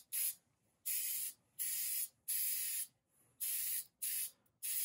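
Black spray paint goes on in a thin coat, as short hissing bursts from the can: about seven sharp, close sprays separated by brief silent gaps.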